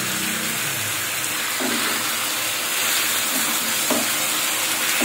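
Chicken pieces and whole garlic cloves fry in a hot pan, with a loud, continuous hissing sizzle and occasional spatula stirs, and no one speaking over it.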